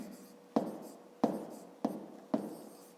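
Pen strokes scratching out numbers on paper while solving a fifth-grade math exercise, four short sharp onsets with brief scraping tails, close and fairly quiet, no talking.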